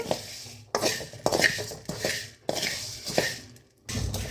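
Coriander seeds are added to a kadai and stirred, making repeated rattling, scraping bursts of metal on metal in an uneven rhythm, close and moderately loud, with no voices.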